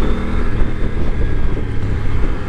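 A 2024 Triumph Tiger 900 Rally Pro motorcycle is ridden, and its engine makes a loud, continuous low drone mixed with heavy wind rush over the microphone, steady for the whole stretch.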